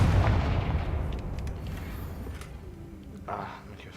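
A Confringo fire spell blasts off in Hogwarts Legacy, a loud booming burst at the start that rumbles and fades over a few seconds, with a faint whoosh near the end.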